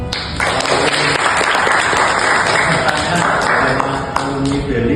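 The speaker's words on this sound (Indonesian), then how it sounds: "ini aplaus buat Kiki." Dense, loud applause from an audience at an Indonesian Independence Day speech competition, an even sustained clatter of many hands clapping close by throughout.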